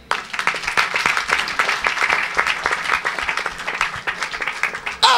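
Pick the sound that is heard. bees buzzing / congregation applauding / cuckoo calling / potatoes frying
congregation applauding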